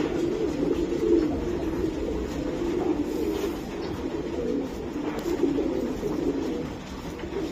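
Racing pigeons coo in low, rolling murmurs that swell and fade continuously, close by and moderately loud, with no voices over them.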